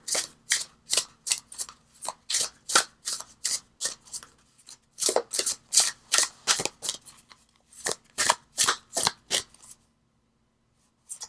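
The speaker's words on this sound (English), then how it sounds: "Okay, keep shuffling." Tarot cards shuffled repeatedly during a card reading, a rapid series of crisp riffling bursts in steady rhythm, close and fairly loud, with a short pause midway and silence near the end.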